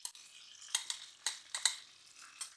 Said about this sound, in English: Now I add the cherry tomatoes